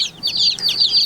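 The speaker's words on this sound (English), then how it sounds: "This is a dual purpose breed chicken. It's a red Sussex" Several Red Sussex chicks or young chickens of a dual-purpose breed, chirping and peeping in quick overlapping high calls, close and fairly loud, with no talking.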